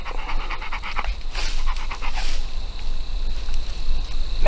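A dog pants rhythmically and close up during a hushed outdoor stretch in the woods, its quick breaths settling slightly over a steady background rumble, with no one talking.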